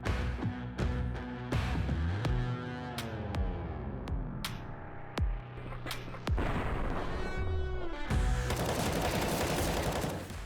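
Rapid bursts of gunfire from a Perfect World esports match, loud and continuous throughout, with sharp repeated shots over a dense game-sound bed and no talk.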